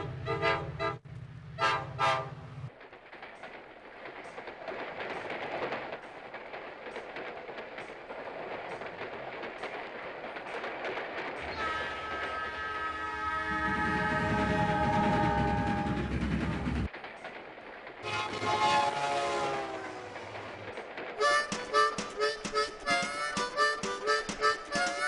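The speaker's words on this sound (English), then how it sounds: "Down the track, there's a train coming down" A passing train sounds its horn repeatedly through a rumbling run, with several long, loud toots over the steady rolling noise. The horn and engine noise shift and cut between sections.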